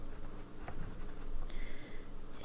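A Lamy fountain pen nib scratches softly across paper in short strokes, a quiet dry scribble heard close up with no talk.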